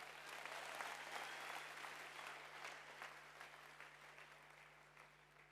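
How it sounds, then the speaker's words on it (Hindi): Loud, sustained applause from a crowd, dense clapping that swells early and then slowly thins over about five seconds, with no voices over it. "जोरदार ताली बजा दीजिए।"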